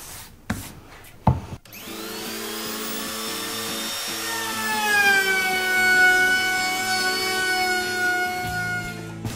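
A router fitted with a small round-over bit shaping the top edge of a solid surface worktop, a steady high whine with rising tonal streaks, running continuously after a couple of sharp knocks at the start.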